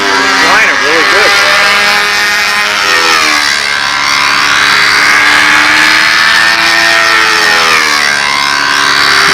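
A model P-51 Mustang airplane's engine drones loudly and steadily while flying, its pitch sweeping up and down as the plane banks and passes overhead.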